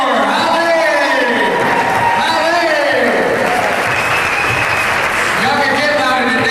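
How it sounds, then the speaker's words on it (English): Loud, steady applause from an audience for performer Holly Moore fills the room throughout, with cheering and a host's voice shouting over the clapping. "let's get another round of applause for Holly Moore"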